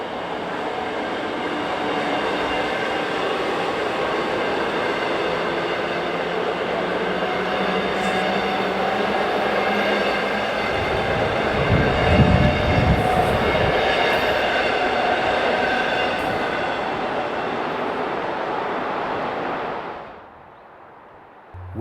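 A South Shore Line passenger train runs on the new Monon corridor near South Hammond, a loud, sustained rumble with a tonal hum and a brief swell of wheel noise midway, then cutting off sharply near the end.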